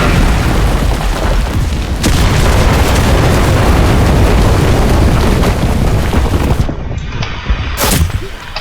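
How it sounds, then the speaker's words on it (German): Explosion of a detonated bomb in the video game Enlisted, set in city combat at Pokrovskoe: a loud, dense roar of blasts and gunfire that fills the scene continuously, then breaks off briefly near the end. "Unsere Verbündeten bereiten eine Detonation vor."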